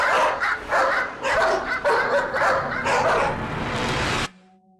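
Several dogs bark repeatedly in a fast, overlapping, loud volley with some yips, then cut off abruptly to near silence.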